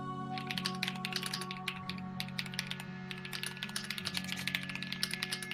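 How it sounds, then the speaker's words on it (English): Clicky mechanical computer keyboard keys rattle in quick, uneven bursts of typing, close and fairly quiet, with a steady low hum underneath. "I like the ASMR keyboard"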